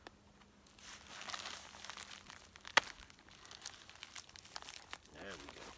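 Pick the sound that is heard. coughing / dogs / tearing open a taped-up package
tearing open a taped-up package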